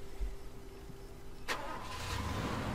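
Car engine starting in the video game Far Cry 2, a quiet lead-in followed by a sudden ignition burst and a low engine running steadily afterward.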